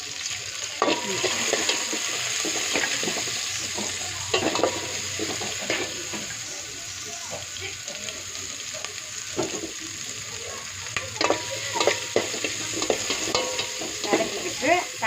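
Green chillies and big onions sauté in a hot pan, sizzling steadily under repeated scraping and stirring strokes, fairly close and moderately quiet, with no talk over it.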